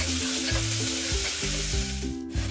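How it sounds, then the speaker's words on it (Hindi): Curry leaves, green chilli and onion sautéing in a hot pan, a loud steady sizzle with stirring, close up, no voices. "और करी पत्ता और बारीक कटी हुई हरी मिर्च और प्याज। हल्का सा इसे सौते करेंगे,"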